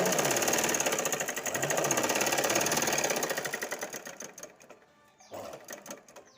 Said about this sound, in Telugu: దీన్నే మళ్ళీ ఇలా తిప్పుకుని కుట్టేసుకుంటే బాగుంటుందండి.